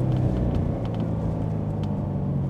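A car accelerates in second gear with its wheels spinning, giving a heavy, steady engine rumble and whir heard from inside the cabin, with a few faint ticks over the drone.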